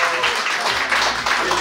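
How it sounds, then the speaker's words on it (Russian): Audience applause at a shop opening event in Makhachkala, Dagestan, a short burst of loud, even clapping. "Аплодисменты ваши,"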